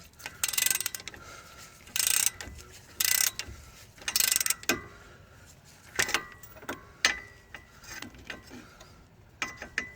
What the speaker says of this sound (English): I got an extended handle, like a 2-foot handle on this ratchet.